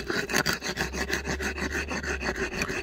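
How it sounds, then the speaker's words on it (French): New BMW E60 front brake pads are rubbed back and forth on the ground to bed them in, a dense rhythmic scraping of about a dozen quick strokes, close and fairly loud, with no talking. "pour les roder c'est simple, hein, je les frotte quelques secondes par terre pour enlever la garniture qui est dessus"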